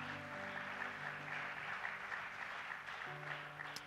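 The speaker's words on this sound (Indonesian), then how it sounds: "Kasih tepuk tangan dong buat Ivania dan tim" A church service congregation gives applause for Ivania and the production team, a faint, steady patter of clapping beneath a sustained musical tone.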